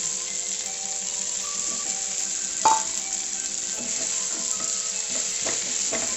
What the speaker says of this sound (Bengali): এইভাবে আমি 5 মিনিট এইভাবে কষিয়ে নেব যাতে সব মশলাগুলো মাছের মধ্যে বা কাঁঠালের মধ্যে ঢুকে যায়